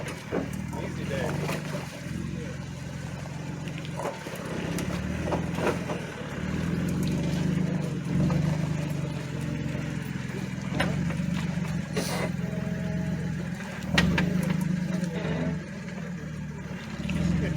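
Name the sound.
Jeep JK engine crawling off-road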